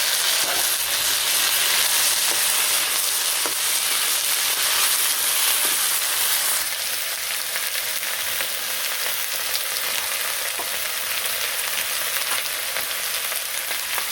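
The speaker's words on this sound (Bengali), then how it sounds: "এই যে কচু আর আলুটা ভাজা হয়ে গেছে এখন বেগুন দিয়ে দেবো এর মধ্যে" Taro, potato and eggplant fry in hot oil in a village kitchen, giving a loud, steady, close-up sizzle and crackle that runs unbroken throughout, with no voices.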